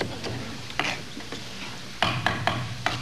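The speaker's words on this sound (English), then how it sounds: "We saute the flounder there and we take a little oil and put it there." Flounder sautés in oil in a pan, a low background sizzle broken by several sharp ticking clicks of a utensil against the pan, with no voices.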